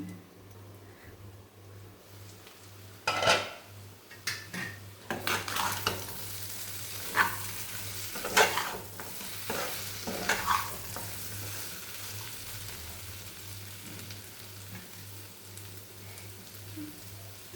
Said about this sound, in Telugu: చికెన్ అనేది బాగా ఫ్రై అయిపోయింది